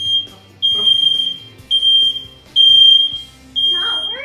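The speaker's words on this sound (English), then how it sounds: "Setting off the fire alarm. Get it to stop beeping" A smoke alarm sounds during cooking, going off in four loud, steady high-pitched beeping bursts separated by short gaps, with some faint background sounds and voices between the bursts.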